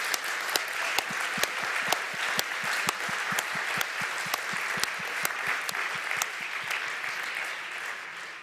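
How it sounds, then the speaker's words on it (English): Audience applause at the closing ceremony of the Geneva Health Forum 2022 in Geneva, a steady wash of clapping with several louder, closer claps popping out at regular intervals throughout. "that would deserve a big applause"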